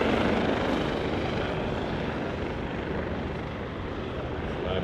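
A vintage propeller plane approaches to land on a grass airfield, its engine a steady loud droning roar throughout while a commentator talks over it.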